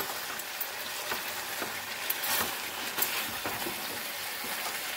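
Chicken being sautéed and stirred in a pan, a steady close sizzle with scattered scraping and stirring knocks, no talking.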